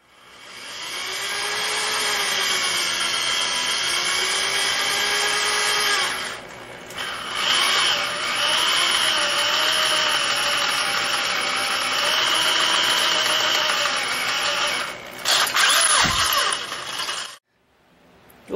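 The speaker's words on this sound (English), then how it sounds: "The holes have not been drilled yet, so we're going to start on those" Drilling mounting holes for the rear sets on a CR500-engined sportbike street racer, a sustained high-pitched power-drill whine that runs steadily with brief pauses and changes in pitch, then cuts off near the end.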